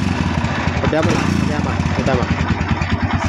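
A Barako motorcycle engine runs close by with a rough, rapid mechanical putter and rattling idle, while someone talks over it.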